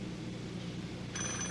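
A telephone bell starts ringing abruptly near the end, a bright electronic trill cutting in over a low background hum, close and brief, with no talk.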